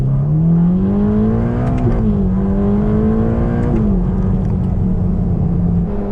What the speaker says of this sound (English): See the engine? You can hear it. There's a lot of noise there.